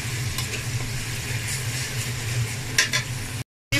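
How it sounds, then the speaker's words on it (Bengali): Garlic and ginger paste sizzles in a pan, a steady close frying hiss with faint scraping and a brief clatter near the end before a short gap of silence, no voices. "রসুন বাটা 7 চামচের মতো, একটু আদা বাটা দিয়ে দিলাম।"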